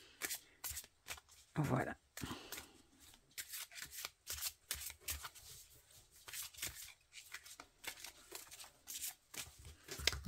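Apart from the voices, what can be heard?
shuffling oracle cards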